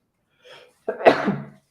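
A single close sneeze, with a short sharp intake of breath before a loud burst that trails off.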